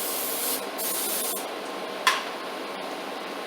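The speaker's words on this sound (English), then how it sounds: "So you're gonna spray it. It makes it so they don't stick" Cooking spray hisses onto a hot waffle iron in two sustained bursts, each about half a second to a second long, with a sharp click between them and a quiet background hiss.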